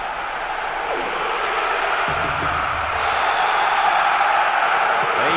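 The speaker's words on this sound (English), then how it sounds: "The stadium is shaking because they're jumping up and down and making so much noise" A stadium crowd in the PES 2009 football game roars in a steady, dense wash of noise that swells slightly partway through, with no clear individual voices above it.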